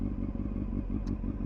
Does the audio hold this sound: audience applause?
no